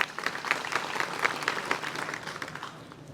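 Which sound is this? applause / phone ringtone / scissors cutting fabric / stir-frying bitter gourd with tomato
applause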